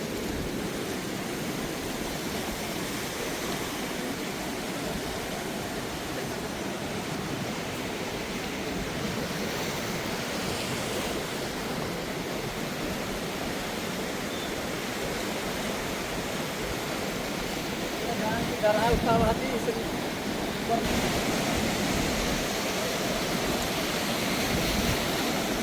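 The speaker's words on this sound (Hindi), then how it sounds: "नदी का बहाव देख सकते हैं किस तरीके से है" The Ib river runs in flood at Dhondhidand, Kunkuri, in Jashpur, Chhattisgarh, giving a continuous broad roar of rushing water that holds steady and loud throughout, with no voices.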